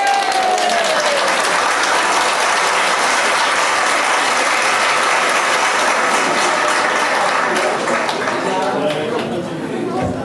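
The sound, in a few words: audience applause at induction ceremony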